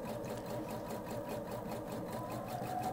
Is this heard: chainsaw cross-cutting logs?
no